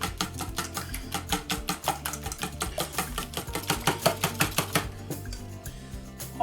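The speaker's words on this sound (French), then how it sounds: "Et on mélange un peu." Rapid, regular clicking and knocking as flamiche filling seasoned with pepper is mixed in a bowl, a steady brisk rhythm of utensil strikes heard up close with no talking.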